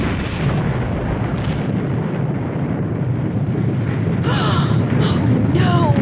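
In the Nancy Drew game The White Wolf of Icicle Creek, a deep, sustained rumble like an explosion rolls on for several seconds, and a woman's sharp breaths or gasps come near the end.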